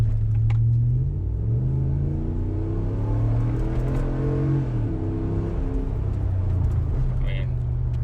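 A four-cylinder car fitted with a Vararam Air Grabber intake accelerates hard from inside the cabin, its engine note climbing through rising revs with a brief gear change, loud and continuous.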